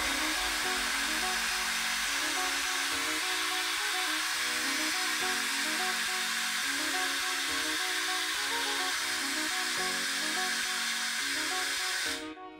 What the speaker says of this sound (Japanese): この時に下を向いてドライヤーを上から当てていきます。